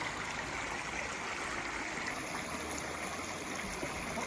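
Clear, cold creek water flows steadily in New Hampshire, a continuous close rushing and gurgling with no voices over it.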